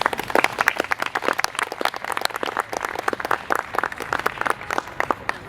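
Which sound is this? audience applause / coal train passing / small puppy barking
audience applause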